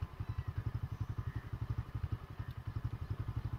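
White vehicle engine running close by in a steady, fast rhythmic chug, fairly quiet, with no clear cut-off before the end.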